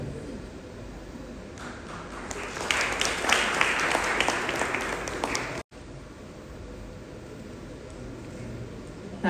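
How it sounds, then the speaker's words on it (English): Audience applause fills a hall at a women's achievement event, a broad rising wash of clapping that peaks mid-way, then cuts off abruptly before quieter room sound continues. "a loud round of applause"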